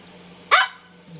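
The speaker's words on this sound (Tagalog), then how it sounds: "Ang aso, maingay, oh." A single sharp dog bark, close and loud, in an otherwise quiet room with a faint hum.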